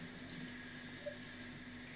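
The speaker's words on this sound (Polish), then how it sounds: "ty dolałaś wody, żeby te warzywa się na parze gotowały" Water poured into a frying pan of vegetables being cooked with fries, a steady soft running and hissing wash with one small bright blip midway, faint and continuous with no voices.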